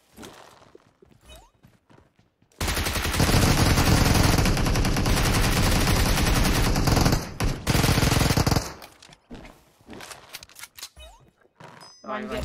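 Rapid, sustained automatic gunfire in a scoped-shooter video game roars continuously for several seconds, with scattered single shots and people's voices talking before and after.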